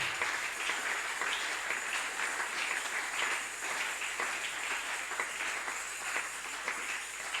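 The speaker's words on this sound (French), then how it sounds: "Acclamons très fort notre Seigneur" Church congregation applauding during a worship service, a steady, sustained wash of clapping that stays fairly even and somewhat distant throughout.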